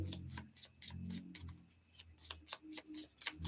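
Small, tiny oracle cards are shuffled by hand in quick, rhythmic riffling bursts, close and fairly soft, with brief pauses between flurries and no speech.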